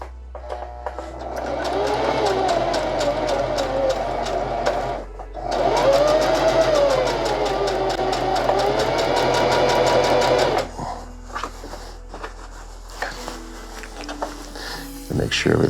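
A sewing machine runs in long continuous stretches while hemming hammock fabric, close and loud with one short pause, then stops and leaves quieter handling sounds.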